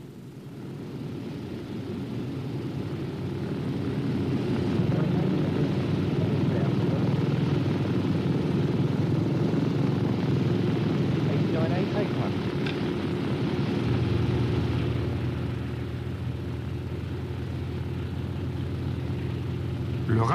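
A rare Grumman Avenger warbird taking off at an air display: a loud, steady piston-engine drone builds over the first few seconds and holds close and heavy throughout, with a low rumbling roar.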